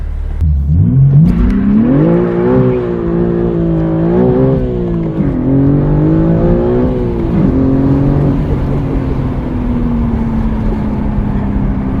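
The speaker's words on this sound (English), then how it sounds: "So we're gonna go ahead and launch this thing for the first time." A BMW M4 G82 launches hard with traction control off, its engine roaring and climbing in pitch through a run of gears. The loud, continuous exhaust note rises and falls with each shift, with no talking over it.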